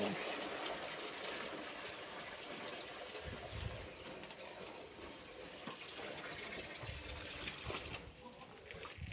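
Water pours and trickles steadily at close range as livestock, including buffalo, are given a drink in hot summer weather, with a few soft low thumps and splashes along the way.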